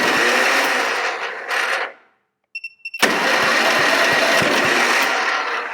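An old engine on a mower or tractor cranking and trying to start, loud and close, a sustained churning roar that cuts out briefly, sputters, then catches again and keeps running.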